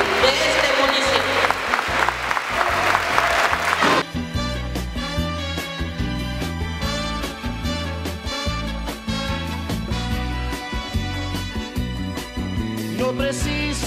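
Applause at a municipal ceremony honoring a distinguished teacher, Profr. Juan de Dios Ángeles Hernández, loud for about four seconds before music with steady beats takes over and continues.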